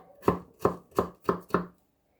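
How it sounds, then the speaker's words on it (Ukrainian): Five crisp knife chops dicing potatoes into small cubes on a cutting board at an even pace, close and clear, then quiet. "Отак відрізала і дрібненьким кубиком нарізаю картоплю."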